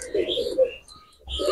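A quality pigeon offered for sale gives soft low cooing close by, briefly broken by a pause before resuming, with a person speaking over part of it.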